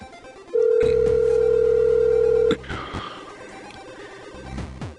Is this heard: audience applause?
no